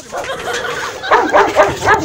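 A dog barks close by in a short series of sharp yips and woofs, growing louder and more rapid in the second half.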